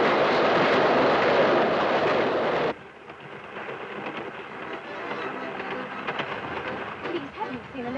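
A train runs with a loud, dense rumble that drops suddenly to a quieter steady rattle and clatter, as if heard from inside a carriage.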